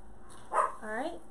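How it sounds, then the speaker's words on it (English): A pet dog barks indoors at a home craft workspace as a FedEx delivery arrives, two short muffled barks heard faintly in the background of a quiet room. "just to warn you, my dog probably will bark"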